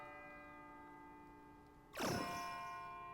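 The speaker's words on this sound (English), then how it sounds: "It sounds like a bell, but where's it coming from?" A bell rings out in Persona 3 FES, a single loud struck clang at about two seconds that blooms and slowly decays over a steady tonal game music bed.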